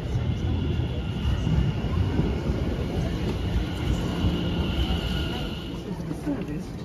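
Rumble and rolling drone of a slightly busy passenger train running on the rails of a London line toward Clacton-on-Sea, steady and close from inside the carriage, with a faint high whine throughout.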